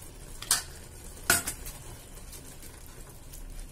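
Ghee goes into sewai kesari in a pan, with two sharp spoon clinks against the metal followed by a faint, steady sizzle and light stirring, close and fairly quiet.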